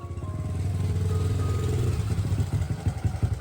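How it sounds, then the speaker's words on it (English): An old motorbike engine running with a low, throbbing putter, steady at first and then breaking into distinct rhythmic put-put pulses, loud and close with a little clatter. "the put, put, put, put of an old motorbike"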